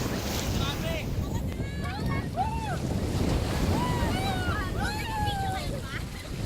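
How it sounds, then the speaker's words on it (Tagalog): Strong ocean waves breaking on Boracay beach, a loud, continuous surf roar with wind buffeting the microphone and people shouting and calling out over it. "Malakas ang alon."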